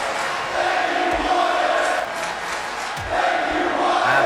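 A WWE 2K23 wrestling match has a video game arena crowd roaring and chanting loudly, rising and dipping in waves over a few seconds.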